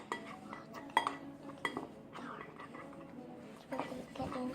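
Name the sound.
mixing slime ingredients in a bowl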